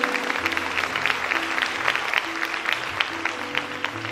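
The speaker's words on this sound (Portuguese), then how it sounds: "dá um aplauso ao Senhor" A church congregation claps through a worship service, a moderate patter of applause over a sustained organ or keyboard hum, with scattered louder claps.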